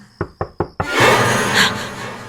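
Four sharp knocks land on a door in a quick even rhythm, then a loud broad rushing noise swells and covers the rest.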